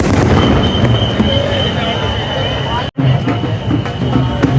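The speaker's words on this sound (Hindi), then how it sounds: "पूरी आतिशबाजी हो रही है यहाँ पे।" Fireworks go off at a crowded Khatu Shyam temple festival: continuous loud rumbling booms and crackle fill the air, with one sudden sharp gap partway through, under a busy mix of crowd noise and voices.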